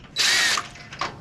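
An impact wrench rattles off a bolt on the steering and shock assembly of a 1994 Toyota pickup V6 2WD, giving one loud hammering burst followed by a shorter second pulse, with no talking.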